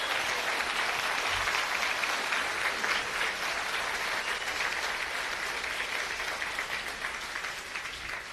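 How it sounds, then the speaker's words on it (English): Dense, sustained audience applause filling a stage show, a steady wash of many hands clapping at even loudness throughout, slowly tapering at the very end. "I didn't want no applause on that"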